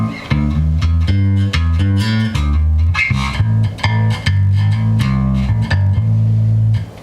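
Clean electric bass playing a busy line of plucked notes, clear and close, with short gaps between phrases and no voices.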